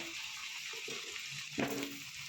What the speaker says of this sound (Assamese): কাটি ৰখা আলুখিনি দি দিলোঁ, ধুনীয়াকৈ ৰঙা ৰঙাকৈ ভাজি ল'ম